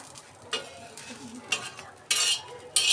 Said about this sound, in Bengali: এই দেখেন শুটকি ভাজছি আমি।